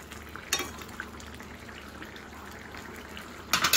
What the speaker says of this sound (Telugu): ఇదిగోండి చక్కగా అయితే ఉడుకుతుంది.